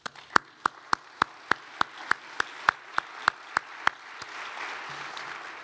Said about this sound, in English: I'd ask you to join me in a round of applause for all those organizations.